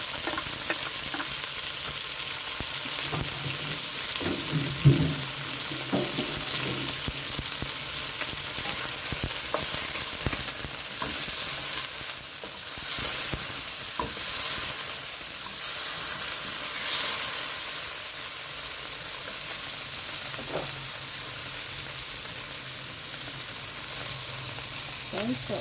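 Shrimp and tomato sautéing with garden vegetables such as okra, winged beans, squash, string beans and bitter gourd in a pan gives a loud, continuous sizzle and hiss, with occasional clatters and stirring scrapes throughout.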